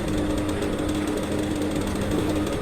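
A sewing machine runs continuously while stitching the folded border of a bedsheet, a steady close mechanical whir and rattle without pauses or talk.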